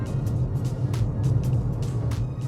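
A car drives along a road, a steady close rumble of engine and tyres with continuous road noise and no talking.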